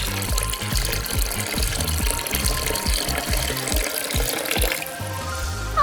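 Water gushes down a loopy slide in a steady, full rush, with rhythmic low splashing pulses; near the end the flow changes character, ending in a brighter spray.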